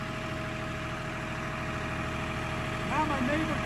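A tractor engine idles in neutral with a steady, close, low rumble throughout, and brief voices come in near the end.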